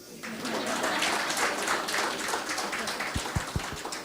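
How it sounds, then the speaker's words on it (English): A conference audience at the Odisha Vikash Conclave applauds, a broad steady patter of many hands at moderate distance, thinning toward the end as a few sharper individual claps stand out. "you have to clap once again"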